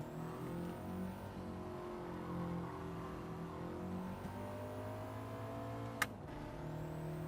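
A race car engine in Gran Turismo drones steadily with a sustained, shifting engine tone that rises and falls slightly through gear changes, and a brief sharp knock near the end; no talking.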